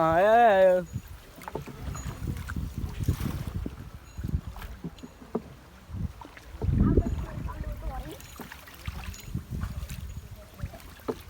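Oars slosh and knock gently in calm water, with soft splashes and wooden creaks while people talk nearby.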